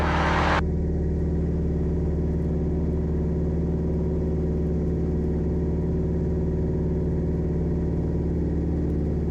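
A light aircraft engine at full power during takeoff, a steady, loud drone with strong low harmonics, holding constant power throughout; a brief hiss at the start fades quickly.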